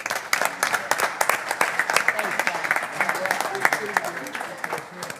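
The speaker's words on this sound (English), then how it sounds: "give them another clap" Audience applause at a Myrtle Beach city council meeting: a steady patter of many hands clapping fairly close by for several seconds, with voices talking over and around it.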